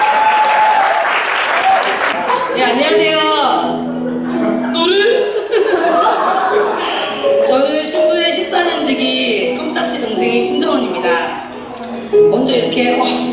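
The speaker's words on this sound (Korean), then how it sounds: "박수 부탁드립니다" Wedding guests clap in a dense, sustained round of applause before a congratulatory speech, with chuckles and laughter mixed in and voices heard through it.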